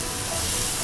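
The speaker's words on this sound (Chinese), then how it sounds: "稍微爆炒一下" Shredded radish and wood ear mushrooms stir-fry in hot oil, a loud, continuous sizzle with a broad hiss, close up and with no one talking.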